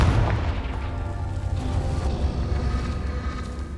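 Fiery Confringo blast spell from Hogwarts Legacy, a sustained rumbling boom with dense low-end roar that holds steady and loud throughout, no voices over it.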